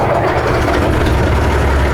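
An old tractor engine runs with a steady, loud, deep chugging drone that holds without a break for the whole two seconds, close to the listener.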